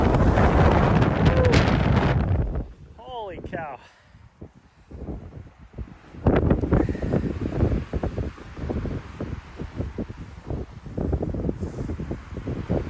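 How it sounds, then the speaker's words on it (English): Strong gusty wind roars against the microphone on a Montana trail below a mountain, loud at the start and again after a brief lull, with a person talking through the gusts. "but it is way too windy"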